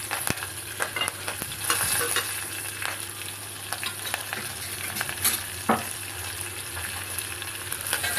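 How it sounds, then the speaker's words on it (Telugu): Curry leaves, coriander, green chillies and dried red chillies fry in a pan for tamarind curry, a close steady sizzle broken by repeated sharp scrapes and taps of a spoon stirring. "కరివేపాకు, కొత్తిమీర, పచ్చిమిర్చి, ఎండుమిర్చి వేసి కలుపుకొని కాసేపు వేగనివ్వండి."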